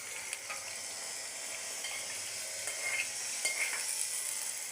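Chopped tomatoes fry and sizzle steadily in a pan for Andhra tomato dal, a close, even hiss with faint stirring scrapes and no voices.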